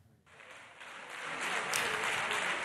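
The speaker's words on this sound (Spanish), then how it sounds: "Los socialistas han recibido a Teresa Rivera entre aplausos" Applause from Socialist senators in the Spanish Senate welcoming Teresa Rivera, a steady crowd of clapping that swells gradually and stays fairly distant and soft throughout.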